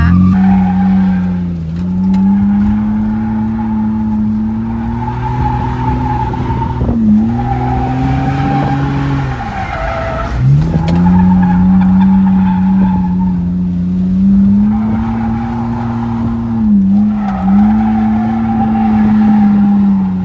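An SRT Hemi-powered Jeep Wrangler drifts with a steady loud engine drone and sustained tire squeal, its pitch wavering and dipping a few times over twenty seconds.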